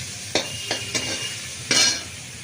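Onions and green chillies frying in a pan give a steady sizzle, broken by several scraping strokes of a utensil, the last one longer and louder.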